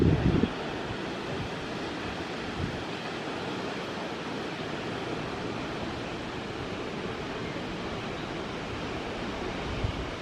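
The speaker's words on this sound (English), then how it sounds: "This waterfall is unbelievable." A waterfall in Mauritius gives a constant broad rushing roar, with a brief louder burst at the very start and then an even, unbroken wash of water noise throughout.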